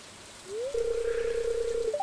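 In Stardew Valley, steady, hissing rain-like patter fills the background during a concert while a clear, sustained electronic tone rises, holds, then steps upward at the end.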